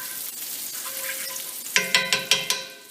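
Chopped onions sauté in a pan with a steady sizzle, and a few sharp stirring scrapes come in near the end, close and moderately loud, with no voices.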